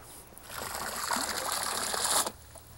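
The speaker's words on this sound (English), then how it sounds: "And now it's time to fill the pot with water." Water pours into a patio pond pot as it is filled, a steady close trickle and splash lasting a couple of seconds before cutting off abruptly.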